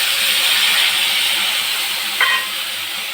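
Tamarind pulp hits a hot pan of fried chilies, giving a loud, steady broadband hiss with a brief sharper crackle partway through; no voices.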